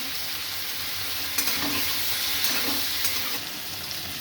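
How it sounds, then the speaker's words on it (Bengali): Paneer cubes frying in oil in a pan, a constant hissing sizzle with a few soft scrapes of stirring, no voices. "আমি দিয়ে পনিরগুলো ভালো করে ফ্রাই করে নেব।"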